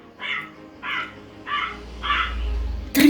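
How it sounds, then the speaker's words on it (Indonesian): A crow caws four times at an even, unhurried pace, loud and near, followed by a sudden sharper noise at the end. "Datang burung gagak adik-adik."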